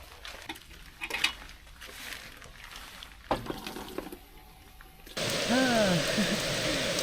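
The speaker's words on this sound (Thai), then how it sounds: "ตอนนี้ฝนตกหนักมากเลย" Rain patters and drums on a tent, then swells into a dense, steady downpour with a few faint bird calls, at a campsite by Lake Superior in Michigan's Upper Peninsula.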